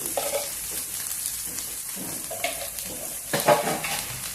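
Poha upma of flattened rice being stirred and fried in a hot pan, with steady sizzling under intermittent scraping and stirring strokes, close and moderately loud, no talking.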